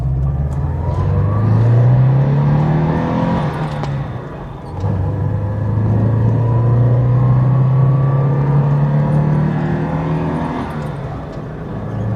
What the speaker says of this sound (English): your average family hatchback sounds like that